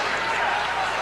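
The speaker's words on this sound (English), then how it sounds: "reaction from the crowd on that foul that was called on Cartwright" A crowd at a 1992 Bulls at Pistons NBA basketball game reacts sarcastically to a foul called on Cartwright, a dense, steady roar of many voices filling the arena throughout.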